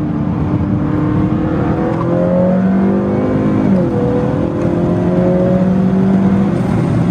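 A tuned 2021 Honda Accord 2.0T accelerates in third gear, heard from inside the cabin as a loud, continuous engine drone rising in pitch with a brief dip partway through, over constant road roar.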